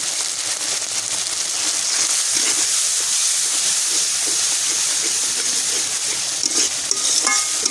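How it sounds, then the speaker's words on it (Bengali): Spice paste with salt, turmeric, chilli, cumin, ginger and garlic is sautéed and stirred in a pan, a loud continuous sizzling hiss with occasional utensil scrapes and clinks, close and without speech. "এটা ভালো করে মশলাটা কষিয়ে নেব যাতে আদা রসুন গন্ধটা না থাকে"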